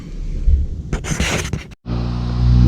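A 1988 Mazda RX7 FC3S rotary engine cranks with a rumbling churn, cuts out briefly, then catches and settles into a steady, loud, buzzing idle close by.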